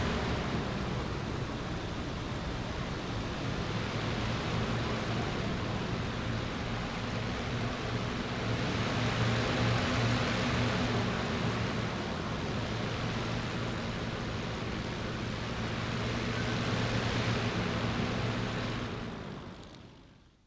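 In IL-2 Great Battles, several aircraft engines roll for takeoff together: a continuous, loud broadband roar that rises and falls gently before cutting away at the end.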